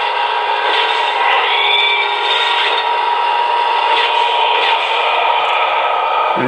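A Lionel Haunted House toy building plays Halloween sound effects through a small tinny speaker, a steady mid-range eerie wash of noise with faint scraping textures that runs continuously.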